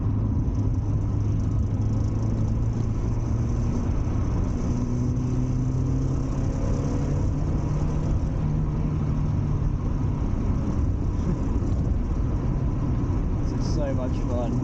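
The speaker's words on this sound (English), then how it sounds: "Move off into the corner and gently roll onto the accelerator." A Mazda MX-5 NA engine pulls out of a corner on a winter drive near Hethel, Norfolk, a steady mid-pitched rumble with rising harmonic sweeps as it accelerates, continuous throughout and close, under road and wind noise.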